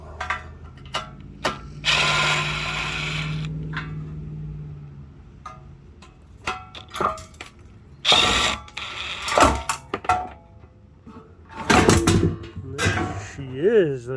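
A ratchet backing out 10mm exhaust bolts on a Kohler Courage engine, with rapid close clicking runs in several bursts and brief metallic clatter between them.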